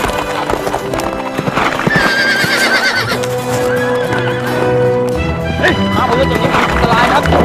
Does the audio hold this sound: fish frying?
no